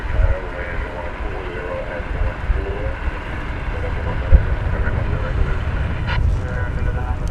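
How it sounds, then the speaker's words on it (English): Kalitta Air Boeing 747 taking off from the east side of DFW Airport at night, a distant, steady jet engine roar with a low rumble that holds throughout. "it's taking off from the east side of the airport, but that's the Kalitta Air 747"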